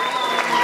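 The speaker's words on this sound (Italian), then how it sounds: "un applauso di nuovo, un vincitore qui con noi" Applause from an audience for an award winner at a music awards ceremony, a dense steady patter of clapping filling the whole short moment with no break.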